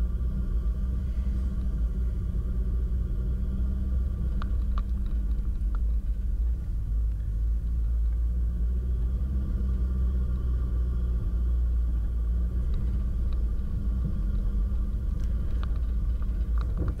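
A four-wheel-drive vehicle rolls along a worn, rutted dirt track on the way from Tom Groggin to Davies Plain Hut, a steady low cabin rumble with occasional knocks and rattles, no talking.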